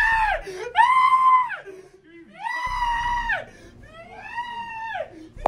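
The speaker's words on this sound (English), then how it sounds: "Someone just screamed." A person screams during a real-life Among Us style game with a football club, letting out three long, loud, drawn-out shrieks separated by brief pauses.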